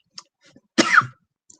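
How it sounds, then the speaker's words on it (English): A single harsh, close cough bursts out after a few faint small noises, then quiet follows. "I'm still coughing"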